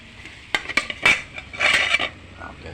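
A metal pot lid is handled and set back on a cooking pot, giving a few sharp clinks and scrapes in quick succession, close up and fairly loud, with no talking.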